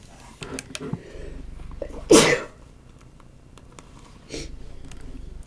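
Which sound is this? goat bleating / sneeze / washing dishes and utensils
sneeze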